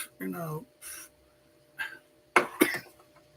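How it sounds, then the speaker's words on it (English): A few sharp, close coughs come in quick separate bursts after a brief voiced sound. "when the coughing gets too bad."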